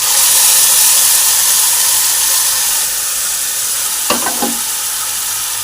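Browned onions in a pan sizzle and hiss steadily as a paste for a kolmi shak bhorta is added, with a strong frying sizzle throughout and a couple of short stirring scrapes near the end.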